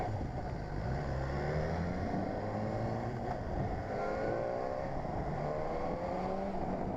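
A 2017 BMW S1000R four-cylinder motorcycle being ridden through town with the rev limit held at 8000 rpm during break-in, its engine droning loud and continuous with rising and falling pitch as it accelerates and shifts.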